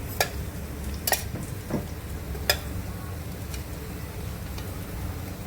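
Soft sizzle of paneer frying in butter in a pan, punctuated by a few sharp clicks and taps of a utensil against the cookware at irregular intervals.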